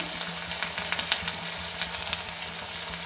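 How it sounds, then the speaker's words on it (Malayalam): Soya chunks with curry leaves fry in a pan a small batch at a time, giving a steady close sizzle with scattered sharp crackles and pops, no voices. "കുറച്ച് കുറച്ച് ക്വാണ്ടിറ്റി ഇട്ടിട്ട് പൊരിച്ച് ഫ്രൈ എടുക്കുവാണ്"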